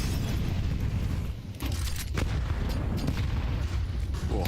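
A grenade explodes during a professional Counter-Strike match at IEM Atlanta, amid dense, loud in-game booms and gunfire that fill the whole stretch.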